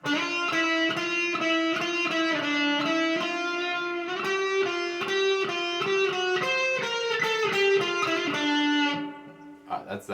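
A short distorted electric guitar lick, sustained overdriven notes with bends and quick hammer-on runs, playing alone before cutting off abruptly.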